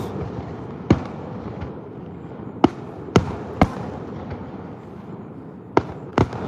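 Sharp firework bangs pop at irregular intervals, some distant and some close, over a low rumbling background.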